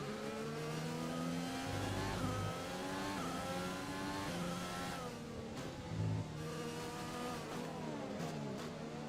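An F1 car in the F1 2020 game drives behind the safety car, its high-pitched engine repeatedly revving up and down through gear shifts, loud and continuous with brief tyre squeal.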